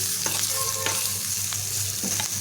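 Sugar and spices are stirred into chopped green chilli relish frying in a pan, giving a steady sizzle broken by light scrapes and taps of the spoon.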